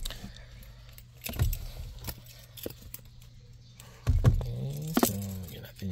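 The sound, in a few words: car keys jangling before insertion into ignition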